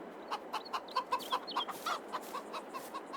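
Chickens clucking in a backyard chook pen, a run of short, evenly spaced clucks and calls, moderately close, with no talking over them.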